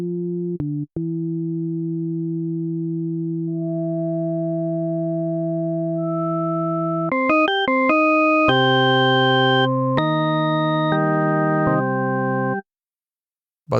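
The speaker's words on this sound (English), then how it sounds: "these are just 4 sine waves playing in octaves, each an octave higher than the previous one" The OpZilla FM synthesizer plugin plays pure sine tones stacked in octaves, starting with a low steady hum, then layering higher, brighter tones in stepped changes and clean sustained notes before cutting off.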